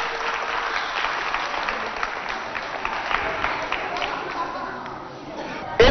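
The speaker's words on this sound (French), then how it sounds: "je vous invite à applaudir très fort pour raccompagner nos deux candidats" Audience clapping loudly at a televised Chadian game show as two contestants leave the stage, a sustained crowd applause with a faint murmur of voices throughout.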